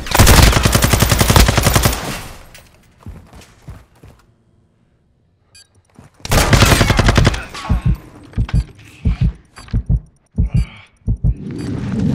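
Gunfire in Call of Duty Modern Warfare II during the Atomgrad raid: a loud sustained automatic burst, a near-silent lull, then another heavy burst followed by a series of separate sharp shots, close and dominant.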